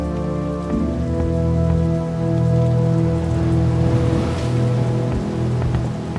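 Steady rain pours across a scene in The Dark Eye: Chains of Satinav, layered under a sustained tonal music bed that holds at an even level throughout, with no talking.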